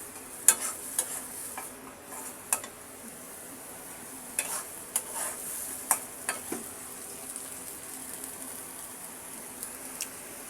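Chopped green chili and turmeric powder fry in a pan with a low, steady sizzle, broken by scattered sharp clicks and scrapes of a spatula stirring, fairly quiet with no voices.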